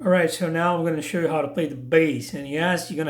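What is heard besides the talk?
No distinct noise like a dog, phone or traffic.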